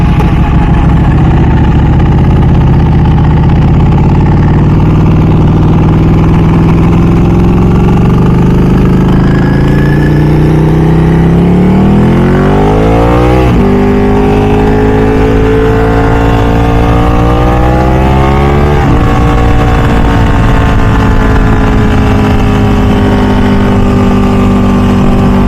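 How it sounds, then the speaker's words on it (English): A Ducati 1199 Superleggera motorcycle engine and exhaust on the road, loud and close, climbing through the revs in a smooth rise, dropping at a shift and then climbing again through the gears. "Hopefully you guys can hear the exhaust from the mic."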